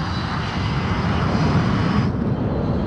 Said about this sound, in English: This is the Ocean Air Force transport plane Mother Goose 1.